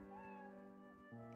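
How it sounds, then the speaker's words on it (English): A pet cat meows clearly and close by, its voice drawn out over steady background music, with a second short cry near the end. "Sorry, it's my cat."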